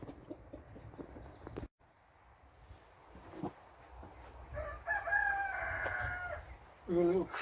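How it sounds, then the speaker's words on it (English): A cockerel crows once at a cabin, a loud drawn-out cock-a-doodle-doo rising over quiet rustling, followed by a short second call. "We've got a little crowing contest going on with the chickens."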